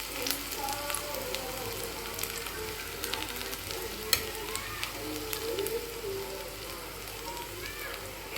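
Garlic frying in a pan with steady crackling sizzle and occasional stirring clicks, moderately close and even throughout, no talk.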